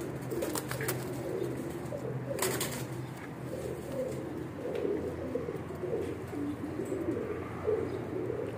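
Fancy pigeons coo in repeated low, throaty phrases, close by and overlapping, with occasional chirps and faint clatter in the background.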